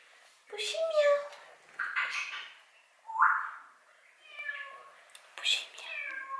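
A pet cat meows several times in a home, with short, rising calls spaced across the moment as a voice calls to it and mimics its miaow.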